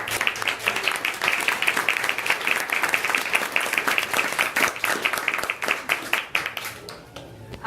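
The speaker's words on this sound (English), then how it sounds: "I want us to applaud Donnie because it's really taken guts." A convention crowd claps steadily for several seconds, a dense close patter of many hands that thins out toward the end.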